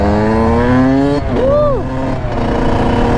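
Honda 150 dirt bike engine revving hard during power wheelies, a loud sustained whine that climbs in pitch, dips briefly, then swells and falls again, close by with voices talking over it.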